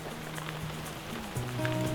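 Rain patters steadily on a tent on a wet morning, a soft continuous hiss of drops, with faint low tones and a slight swell toward the end.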